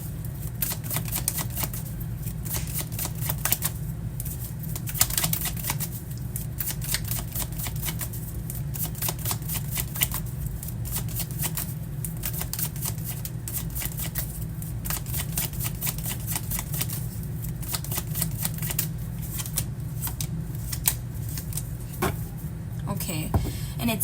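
Tarot cards shuffled by hand in a steady run of crisp riffling and flicking, close and continuous for the whole stretch, with a faint low hum beneath.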